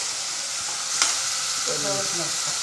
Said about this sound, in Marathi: कांदा, टॅमॅटो, लसूण, मिरची हे सगळं कढईमध्ये टाकलेलं आहे. आता ते व्यवस्थित ढवळून घेणार.